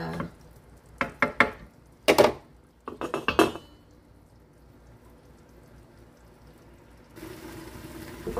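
A utensil stirs chop suey with vegetables and quail eggs in a pot, giving several close, clattering scrapes and clinks in quick bursts, then a quiet pause before a steady soft hiss rises at the end; no one speaks.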